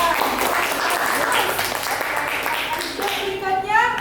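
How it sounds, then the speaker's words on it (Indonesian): A classroom full of people, children among them, claps steadily for several seconds, with a few voices rising near the end. "Kita beri tepuk tangan untuk kelompok 2."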